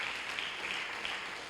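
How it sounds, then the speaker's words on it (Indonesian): A church congregation at a Thursday service claps in continuous, even applause for a short stretch, with no clear pauses. "Beri tepuk tangan untuk Tuhan Yesus."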